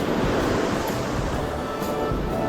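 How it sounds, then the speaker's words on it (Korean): Sea waves break and wash on the shore at a coastal fishing spot near Gyeongju, a continuous loud surf roar mixed with wind noise, with no voices. "오늘 파도 좋은데요"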